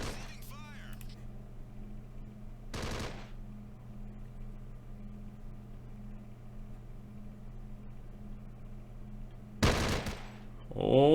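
Two short bursts of machine gun fire in the video game Close Combat: Modern Tactics, one early and one near the end, each loud against a steady low mechanical hum.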